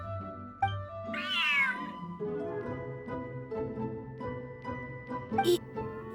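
An unusually large cat in the video game Genshin Impact lets out one clear, drawn-out meow over soft background music, followed by quieter game sounds.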